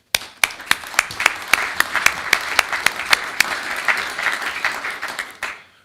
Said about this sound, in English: we give you all a big round of applause, and we ask that you applaud yourself